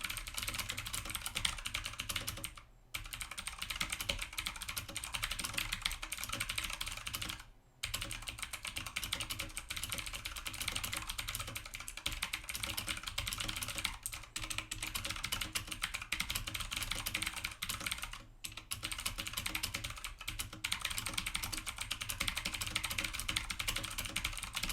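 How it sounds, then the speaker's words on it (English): Clicky mechanical keyboard switches resembling Cherry MX Blues clatter in fast, continuous typing, a dense stream of crisp keystrokes broken by a few brief pauses, fairly quiet and close. "you can hear the sound of the switches that the keyboard makes"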